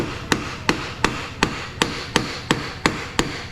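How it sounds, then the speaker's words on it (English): Hammer blows seating an O-ring part into an air starter housing, about ten sharp, evenly spaced strikes close by, with no talking. "Yeah, we use a lot of hammers."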